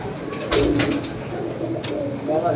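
Pigeons coo nearby in soft, rolling calls that repeat over a steady background, while someone talks over the birds.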